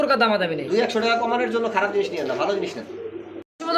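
Domestic pigeons coo softly and steadily among fancy pigeons for sale, while someone talks continuously over them nearby.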